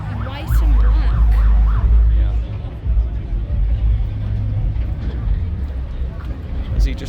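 A police car siren wails at an evening car meet among the Blackpool Illuminations, its rising and falling tone clearest at the start and then buried under heavy engine rumble and crowd noise, with people chatting nearby.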